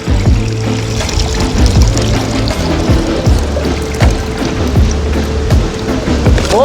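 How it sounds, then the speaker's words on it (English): Coconut milk strained from grated coconut pours and trickles steadily outdoors by a river, a continuous close liquid splash with faint low background hum throughout. "Strain off the coconut here now."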